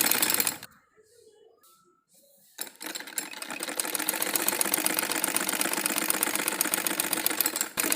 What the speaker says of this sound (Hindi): अब दोनों ही आसन पर हम यहाँ पर सिलाई लगाएंगे